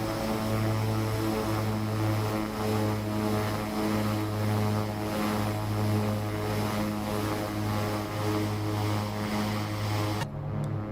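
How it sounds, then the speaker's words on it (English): Twin turboprop engines of a simulated Beechcraft King Air 350 in X-Plane 12 drone steadily with a pulsing propeller beat and layered engine tones, loud and constant, before cutting off abruptly near the end. "The engine sounds are exceptionally well."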